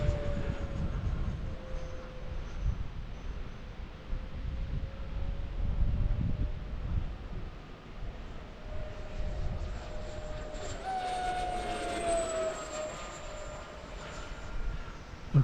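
An RC F-22 model jet flies in the wind, its high engine whine rising and falling in pitch as it passes, over heavy low wind buffeting and rumble, moderately loud and continuous.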